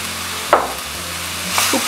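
Chicken sautés in oil with a splash of soy sauce and vinegar, a low steady sizzle broken by a couple of short scraping stirs of the spoon, close and brief, with no talking.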